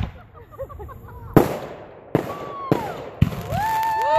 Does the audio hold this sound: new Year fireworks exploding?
yes